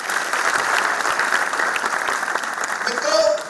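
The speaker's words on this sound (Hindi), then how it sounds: "जोरदार ताली" An audience applauds at a 2023 poetry tribute event honouring martyrs, a steady, dense burst of clapping lasting several seconds and rising slightly at the end, with faint voices mixed in.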